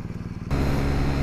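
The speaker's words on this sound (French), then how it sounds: "maintenant que la moto est chaude, on va pouvoir regarder combien elle prend en première à 8000 tours" A BMW R1250R motorcycle with a 136 hp boxer engine runs warm, a low pulsing idle that jumps into a louder, steady drone halfway through, close up.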